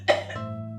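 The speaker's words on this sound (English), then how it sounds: "She's coughing very bad." A woman gives a single sharp cough followed by a short rasp, close and fairly loud, with a low steady hum underneath.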